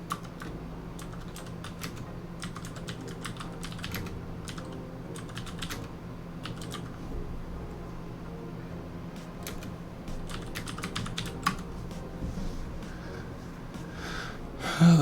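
Steady computer keyboard typing runs throughout, quick irregular clicks close to the microphone over a low, constant background hum.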